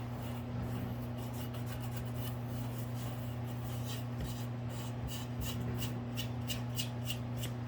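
Glue mixed with sawdust is rubbed into a gap in a wooden frame, a soft continuous scratchy rubbing with quick repeated strokes over a low steady hum, no talking.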